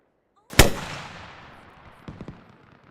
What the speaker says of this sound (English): rocket, rocket.